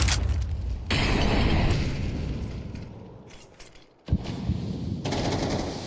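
AWP sniper rifle fire in a Counter-Strike match at the ESL Challenger Jönköping grand final, Eternal Fire versus Monte: loud, sharp gunshot blasts with sudden onsets and dense ringing tails, filling the clip.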